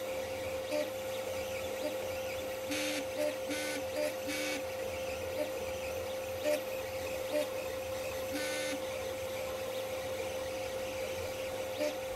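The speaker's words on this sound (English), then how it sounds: "So let's print that lid up right now." A 3D printer prints a lid for a small combat robot, giving a steady mechanical hum with short, repeated whirring stepper-motor buzzes that come in quick bursts, close and without talk.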